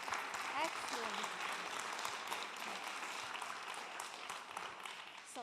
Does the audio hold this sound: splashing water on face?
no